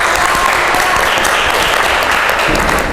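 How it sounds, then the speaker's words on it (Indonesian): An audience in a classroom-style setting applauds a student group's presentation, a thick, even burst of clapping that stays loud and steady for the full three seconds. "tepuk tangan untuk kelompok 3."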